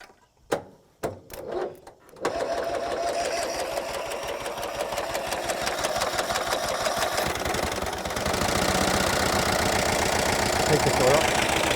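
An M274A2 military mule's engine, recently fitted with a new carburetor, coughs through a few cranking bursts, then catches and settles into a steady, rapid-firing run that grows slightly louder toward the end.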